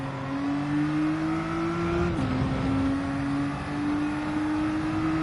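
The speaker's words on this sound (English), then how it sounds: "I want to be able to hear the car and the tires" A race car engine drones at steady high revs in Gran Turismo 7 during a race at Interlagos, a loud continuous tone that drops slightly at a gear change, with a constant layer of tire and road noise and no talk.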